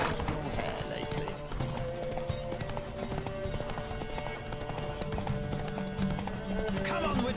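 Horse hooves galloping at speed during a race in The Witcher 3, a steady rapid clip-clop running throughout with game sounds and voices layered over it.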